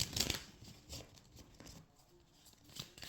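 Soft, quick riffling and patting of tarot cards being shuffled, several brief bursts close by in a quiet room.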